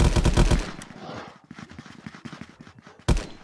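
Gunfire in the VR shooter Contractors VR, with a loud opening burst of rapid automatic shots, then a long stretch of quicker, fainter rattling fire and one final sharp shot, with no talking.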